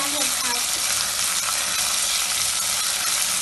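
Ginger garlic paste fries in a pan for a vegetable vermicelli biryani, giving a steady, bright sizzle with faint scraping as it is stirred slowly, close and continuous with no talk.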